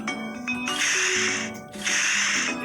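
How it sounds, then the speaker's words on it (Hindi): Water sprayed onto old wallpaper to soften it for removal: two long hissing bursts from a spray bottle, close and loud, with a short pause between them over a faint background tone. "इसके ऊपर ऐसे पानी स्प्रे करते हैं"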